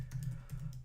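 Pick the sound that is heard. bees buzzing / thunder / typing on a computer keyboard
typing on a computer keyboard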